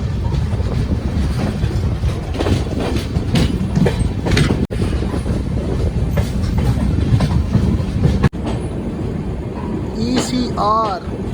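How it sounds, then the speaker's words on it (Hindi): The Saryu Yamuna Express pulls into Jaynagar station, a steady loud rumble of rolling wagons with rhythmic clatter, ending in squealing brake tones near the finish as someone speaks over it. "जयनगर रेलवे स्टेशन पर पहुंचते हुए सरयू यमुना एक्सप्रेस जयनगर अपनी डेस्टिनेशन पर पहुंच गई है"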